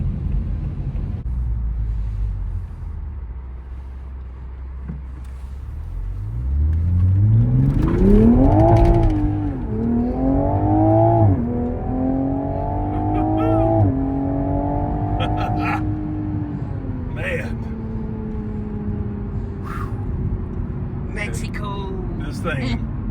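A 2021 Toyota GR Supra 3.0T accelerates hard from about six seconds, its engine note sweeping upward through several rising runs with brief dips at the gear changes, loud and close from inside the cabin.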